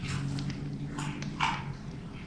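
Dogs give soft whimpers and whines nearby, a few short, high, breathy cries in quick succession with no talking.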